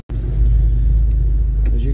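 Ford Mustang with new tailpipes idles with a deep, steady exhaust rumble heard up close, a heavy low throb that starts abruptly and holds evenly.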